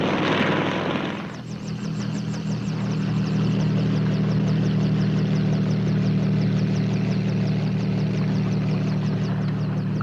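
A helicopter in flight drones loudly and steadily, its rapid rotor chop and engine whine continuing throughout after a brief burst of louder broadband noise at the start.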